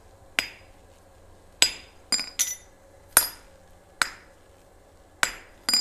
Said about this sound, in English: to supply the hammer work